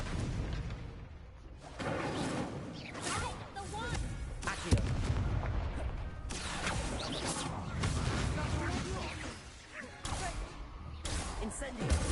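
Incendio fire spells cast in the video game Hogwarts Legacy, several booming, whooshing blasts of fire bursting over game sounds, with a person talking throughout.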